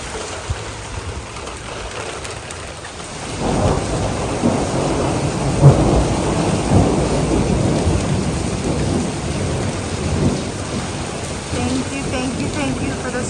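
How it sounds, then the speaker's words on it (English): Steady rain falls, then a deep rolling thunder rumble swells in and lingers under the downpour, close and loud. "the much needed rain. I love a good thunderstorm."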